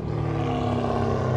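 A supercharged BMW E90 engine drones steadily at a car meet, a loud, even low harmonic hum sustained without a break, no clear rev spikes.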